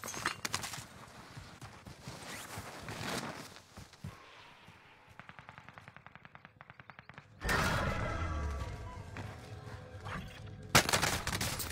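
Video game gunfire in a multiplayer tournament match, with rapid bursts of automatic shots in quick rhythmic runs, heavy loud blasts and clattering noise, close and dense with no talk over it.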